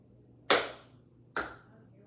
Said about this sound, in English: Clap one more time just like me.